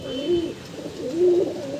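Two soft, throaty coos from Giribaz homing pigeons, one after the other with a short pause between, close by over faint background hiss.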